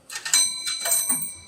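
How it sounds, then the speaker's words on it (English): Payphone coin tone for a dime: two quick bright dings in close succession with ringing overtones, followed by a softer third strike, close and without speech. "This is the sound of a dime."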